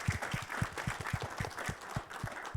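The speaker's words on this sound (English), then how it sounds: "I think I can hear the thunderous applause over Zoom" Soft, distant applause from an audience at a Hawaii tourism update event, a brief patter of scattered hand claps heard faintly.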